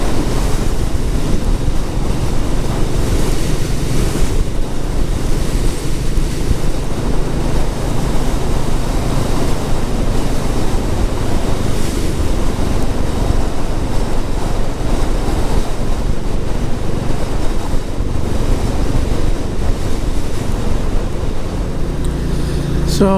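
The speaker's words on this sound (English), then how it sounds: "it's a little bit on the breezy side and a bit on the chilly side as well." Strong wind buffets the microphone while riding a Royal Enfield Classic 350 motorcycle on a breezy, chilly tour in North Wales, a loud continuous rushing roar that never lets up.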